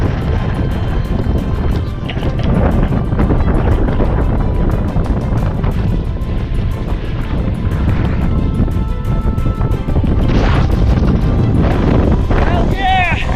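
Strong wind gusting across a microphone beside the Ghost River while hiking, a loud, constant roaring buffet with a voice briefly heard through it.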